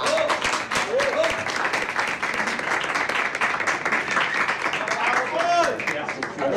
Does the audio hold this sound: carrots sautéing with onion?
no